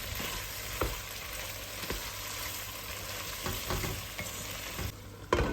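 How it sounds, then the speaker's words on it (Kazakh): Chinese cabbage fries in a pan for Uyghur lagman, giving a soft, continuous sizzle with a few occasional stirring knocks, fairly quiet and steady throughout with no talking. "Он минуттай қуыратын боламыз"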